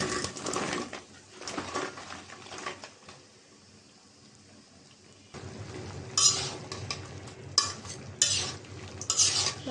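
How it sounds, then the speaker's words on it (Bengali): Bean, eggplant, potato and radish curry stirred in spices in a pan, with scraping spoon strokes and a low sizzle, a quiet lull midway, then louder clattering stirs and metal knocks near the end. "নাড়াচাড়া দিয়ে দিব।"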